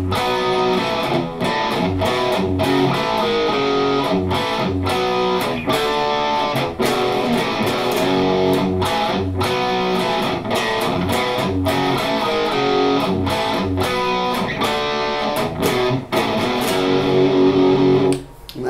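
Distorted electric guitar chugs through the main riff of a song, fast, dense and driving, looping a couple of times at steady loudness before cutting off abruptly near the end.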